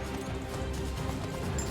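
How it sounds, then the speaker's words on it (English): Horse hooves in Bless Unleashed clop in a soft, steady rhythm, faint and close against a low background rumble. "A horse. Hell yeah, this horse goes at no miles an hour."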